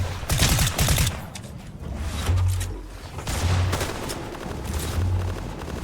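Rapid bursts of gunfire crackle in a Fortnite Battle Royale fight, several loud volleys with short pauses between them and a low rumble underneath.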